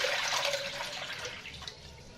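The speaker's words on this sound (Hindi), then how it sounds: "मैं इसमें ये 1 जग जो पानी है मैं इसमें ये ऐड करूंगी" A jug of water pours into an iron wok set over a wood fire, a splashing, gurgling stream close by that eases off slightly toward the end, with no talking.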